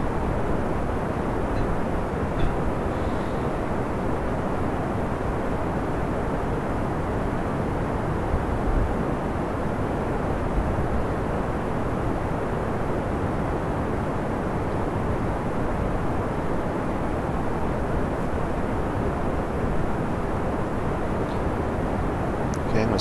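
A steady, dense roar of rocket engines at full throttle during a launch in Kerbal Space Program, constant and loud without pause, with a voice speaking faintly beneath it.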